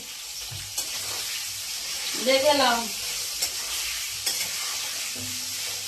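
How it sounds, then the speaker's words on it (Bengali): Food sizzles and fries in a pan with occasional stirring scrapes, a steady crackle under a brief spoken remark. "এই ভাজার সময় হলুদ দিয়ে দিলুম"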